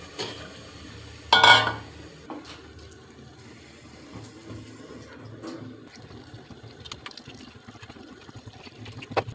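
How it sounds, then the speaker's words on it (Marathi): Fish is sautéed and stirred in a masala in a pan, with one clear scrape of the spoon near the start and then a soft, continuous sizzle, quiet and without talking. "आता हे पूर्ण हे फिश आपण या मसाल्यामध्ये परतून घेऊ, कारण हा मसाला पूर्ण फिशला लागतो."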